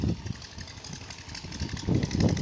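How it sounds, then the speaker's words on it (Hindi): A tubewell pump engine runs in an open village field, a low, uneven thumping chug that pulses and swells in level, heard from moderate distance. "ट्यूबवेल भी चल रहा है"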